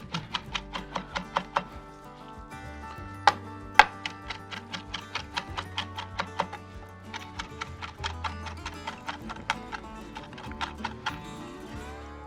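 Squid flesh chopped with a knife on a board: a fast run of crisp, sharp taps, then a short pause, then another long rapid series of chops with a few louder strikes.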